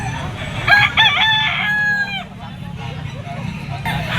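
A yellow-legged gamecock stag crows once at a pet market, a loud close crow rising then trailing off, over a steady murmur of crowd and market noise.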